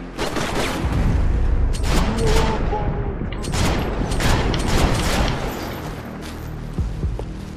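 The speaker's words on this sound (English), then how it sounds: "I heard a gunshot." Sustained rapid gunfire from the video game Max Payne 3, loud overlapping bursts and shots rattling almost without pause, with a voice talking over parts of it.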